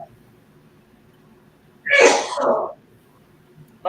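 A single loud human sneeze bursts out close by in a quiet room, a sharp two-part blast lasting under a second against faint background hum.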